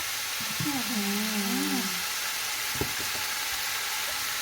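Basil and mushrooms stir-fried in oil, a steady sizzling hiss with a few scraping stirs, close and continuous.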